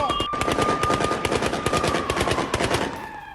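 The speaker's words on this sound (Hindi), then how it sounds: "सीरिया के होम्स में ताबड़तोड़ आतिशबाजी की गई है।" Rapid, dense bursts of popping fireworks going off in Homs, Syria, cracking continuously and loudly for several seconds in a rattling, gunfire-like rhythm before easing slightly at the end.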